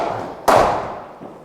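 A cricket ball struck with a bat during batting practice, one sharp, solid thud ringing briefly before fading, with faint outdoor background.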